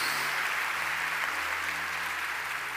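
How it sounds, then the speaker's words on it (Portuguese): A church congregation applauds in a continuous, even wash of clapping, moderately distant, with a low steady hum beneath it and no speech. "dá uma salva de palmas para Jesus, exalta o nome dEle."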